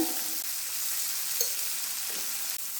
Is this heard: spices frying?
yes